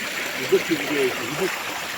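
A forest stream swollen after rain rushes steadily in a continuous broadband wash, with a few brief murmured voice sounds on top.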